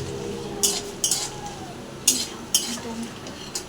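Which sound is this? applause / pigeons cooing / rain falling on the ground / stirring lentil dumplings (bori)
stirring lentil dumplings (bori)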